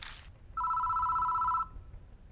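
A single electronic telephone ring in the game Spirit Hunter: NG, one steady buzzing tone lasting about a second, preceded by a brief hiss against a quiet background.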